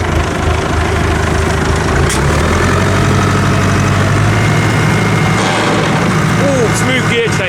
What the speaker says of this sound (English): Oh, smooth gear change.